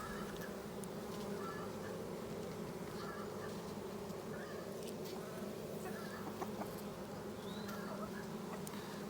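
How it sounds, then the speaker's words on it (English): Honeybees of a swarm colony crawl and hum over a brood frame during a hive inspection, a steady low drone filling the whole stretch, fairly quiet and continuous with no talking. "Look at all these young bees here that are hatching out on this frame."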